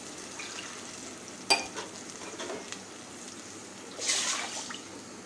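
Water poured into simmering kadhi in a pan makes a soft sizzle and bubbling, with a sharp utensil knock early and a brief louder hiss of liquid near the end, no voices.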